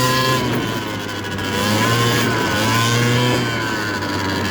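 Two-stroke dirt bike engine revving steadily while riding offroad along a creek, loud and close with a continuous droning tone that rises and dips as the throttle opens.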